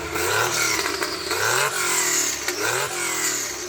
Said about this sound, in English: So Becky, would you mind revving it up so we can hear it?